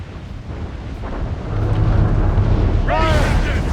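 Naval cannon fire in Assassin's Creed Rogue rolls as a deep, thundering rumble that swells and stays loud, with a shouted voice near the end.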